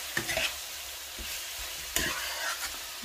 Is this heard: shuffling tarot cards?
no